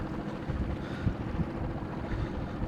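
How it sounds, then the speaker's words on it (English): Strong gusty wind buffets the microphone aboard a small sailboat sailed solo on a beam reach, a loud broadband roar that swells and eases, with faint water noise beneath. "Wow, there's quite a bit of wind today."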